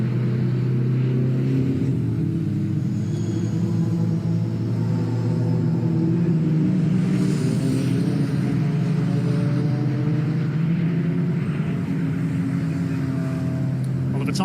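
Racing cars lapping the circuit at Oulton Park, including a Volkswagen Beetle and a Subaru in a CNC Heads Championship race, give a steady, continuous engine rumble throughout, with a commentator talking over it.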